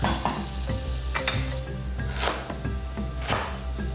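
Cinnamon, cardamom, fennel, cumin and star anise sauté with aromatics in a pan, giving a loud, close sizzle with bursts of spattering and stirring noises over a few seconds.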